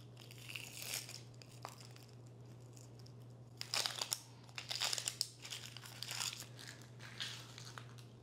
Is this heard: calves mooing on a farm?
no